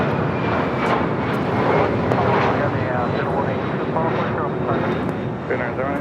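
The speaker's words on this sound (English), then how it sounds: "And the Asiana A380 Super now cleared for takeoff on 25 left." Airbus A380 airliner of Asiana at takeoff on runway 25 left at LAX, its engines giving a loud, steady broadband roar that holds for several seconds, with radio chatter from air traffic control running over it.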